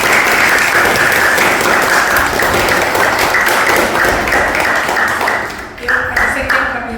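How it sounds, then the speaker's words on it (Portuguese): Applause from an audience at a talk for a cultural memory and identity project, sustained dense clapping that fades near the end as a voice begins speaking. "Uma salva de palmas, né?"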